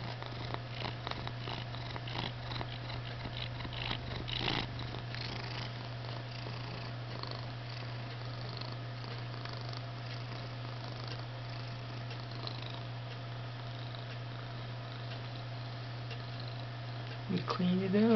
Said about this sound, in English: See if we can get some of that purring.